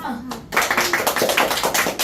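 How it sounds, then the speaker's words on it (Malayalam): A class of children breaks into quick, bright clapping in a Malayalam classroom, a dense close burst of hand claps following a brief moment of young voices. "നമുക്കൊരു ക്ലാപ്പ് കൊടുക്കാം"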